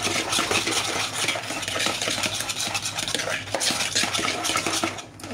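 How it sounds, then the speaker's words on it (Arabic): Cupcake batter is stirred briskly in a bowl just after oil is added, a close, continuous wet scraping and swishing with rhythmic strokes of the utensil, no talk. "نزيد الزيت، نحاول نرونجي مزيان الخليط ديالي"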